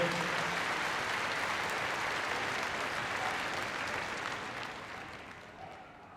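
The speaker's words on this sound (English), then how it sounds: "Give a big round of applause as she leaves the arena." Audience applause in the Crufts dog show arena after a heelwork-to-music routine, a broad wash of many clapping hands, sustained and gradually fading toward the end.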